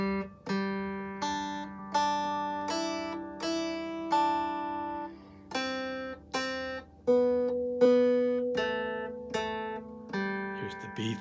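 Plucked guitar picks out a simple melody around the major scale in two alternating themes, each note ringing and decaying in a steady, unhurried rhythm, close and clean with no talking.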